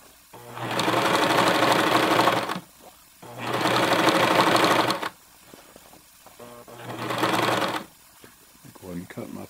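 Janome HD 1000 sewing machine stitching through thick denim and home decor fabric, three loud sustained bursts of rapid needle running a couple of seconds each, separated by short pauses with quiet handling noise.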